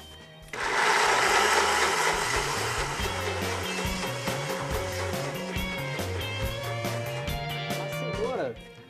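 A kitchen blender churns carrot into a thick paste: a loud, steady motor whine with shifting pitch that starts abruptly, runs close throughout with a rough, chopping low rumble, and cuts off near the end.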